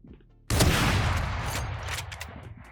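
An Operator sniper rifle fires in the Valorant shooter game: a sudden loud, close blast after a quiet start, followed by a dense burst of further shots and crackling that slowly tails off.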